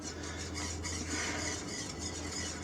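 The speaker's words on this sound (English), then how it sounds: "Just put it in there and stir it around until your butter is all melted." Spoon steadily stirring butter and vanilla into a pot of chocolate gravy, a continuous close scraping and swishing for a couple of seconds with no talking.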